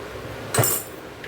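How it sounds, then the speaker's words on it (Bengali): A metal pot of boiled vegetables for sukto is set down on a gas stove, giving a single sharp metallic clank with a short ring, then a quiet kitchen background. "এটা সেদ্ধটা এই গ্যাসে বসিয়ে দিচ্ছি"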